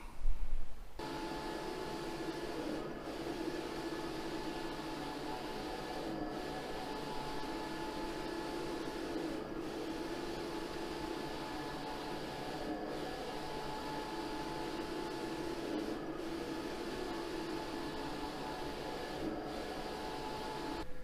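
A printer runs steadily as it prints a photograph, giving a continuous whirring drone with a few faint periodic clicks. The sound carries on without a break for the whole stretch, and no one speaks.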